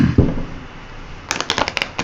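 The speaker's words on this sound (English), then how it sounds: "one more shuffle" A tarot card deck is riffle-shuffled close by, a brief rustle then a quick burst of crisp flicking clicks.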